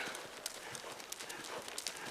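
Horse hooves clip-clop steadily in a rhythmic canter during horse vaulting on a lunge line, fairly close and continuous, with faint background voices.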